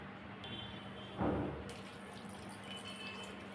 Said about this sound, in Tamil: இப்போ இதில் ஒரு மூணு கப் அளவு தண்ணி சேர்த்துக்கலாம்